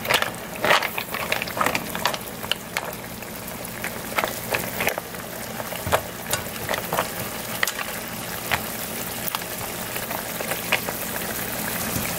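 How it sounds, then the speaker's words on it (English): Seafood with shrimp and opened shellfish sautés and simmers in a garlic, white wine and butter sauce, giving a steady close sizzle with scattered crackling pops and spatters throughout, with no voices. "Let this saute for about 5 minutes."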